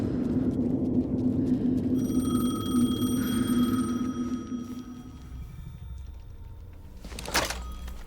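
A telephone rings in the Alan Wake 2 video game, its tonal ring rising over a low droning ambience before fading, followed by a sharp thud near the end.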